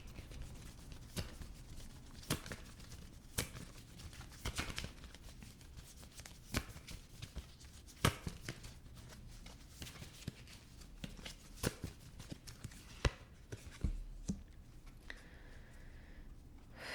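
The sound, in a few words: shuffling a Gypsy tarot card deck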